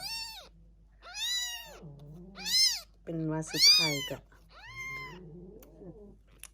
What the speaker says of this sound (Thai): ได้น้องแมวสองตัวค่ะทุกคน